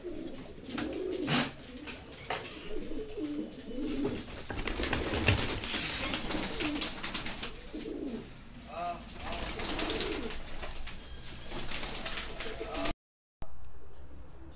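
Domestic pigeons cooing in a loft, soft repeated coos mixed with rustling and occasional wing flaps, heard close by under a steady background of other pigeons.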